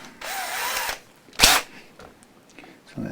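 Power drill boring a guide hole for new screws in a Telecaster-style guitar body, a sustained whirring burst followed by a shorter, sharper high-pitched spin a moment later, close and loud.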